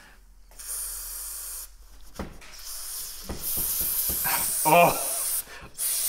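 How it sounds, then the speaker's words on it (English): Carburetor cleaner hisses from an aerosol can in several sprays, a short burst, then longer sustained hisses broken by brief pauses, heard close with a person briefly exclaiming. "Let's see how the carburetor cleaner works on a more production scale"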